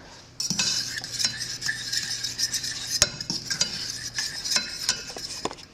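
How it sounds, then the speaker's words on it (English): A lemon juice and cornstarch mixture for a lemon blueberry tart filling is stirred in a pan, giving close rhythmic scraping and light metallic clinks of a utensil over a faint simmer, with no speech. "I'm going to add that to this and then stir this for about 2 more minutes until it gets a little bit thicker"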